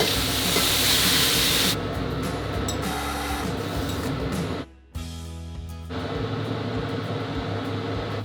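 Blanched Chinese kale stir-fried with salted fish hisses loudly in a hot pan, then the sizzle thins into softer crackling while the greens are tossed, with a brief near-silent gap before the frying resumes.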